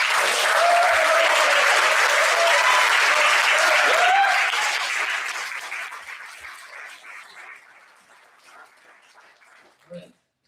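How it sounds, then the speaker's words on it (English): Loud audience applause for poetry recitation finalists at a state poetry competition final, sustained for about four seconds, then thinning out and fading. Faint voices and a dog's whimper are heard under it. "this whole group deserves probably not the last, but one more round of applause"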